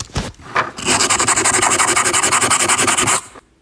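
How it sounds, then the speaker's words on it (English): Sandpaper grinds down the surface of a printed circuit board in a close, loud run of rapid back-and-forth rubbing strokes lasting about two and a half seconds. A few short scrapes come first, and no voice is heard. "we just grind it with some sandpaper until it's gone"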